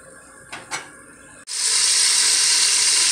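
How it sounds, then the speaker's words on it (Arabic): Onion dropped into hot oil left from frying octopus and peppers, with olive oil added: a couple of light clinks, then a sudden loud, steady sizzle that fills the rest of the clip. "نقليو شويه البصله في نفس الزيت اللي قلينا فيها الاخطبوط والفلفله"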